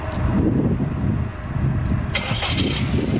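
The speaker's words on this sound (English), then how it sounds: "engine on" A Volvo XC60 engine cranks and catches, settling into a steady rumble, loud and close, with a brief higher rattle partway through.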